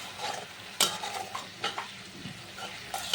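Onion, ginger-garlic and tomato pastes stirred and sautéed in a pan for prawn malai curry, giving a steady soft sizzle broken by sharp scraping clinks of a spoon against the pan at irregular intervals, close and moderately loud, with no talking.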